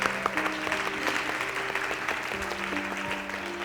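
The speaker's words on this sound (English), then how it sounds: "We can clap for Step Up Ventura." Audience applause at a Christmas Eve church service, steady dense clapping filling the room throughout, with a sustained tonal hum or music underneath and no one speaking.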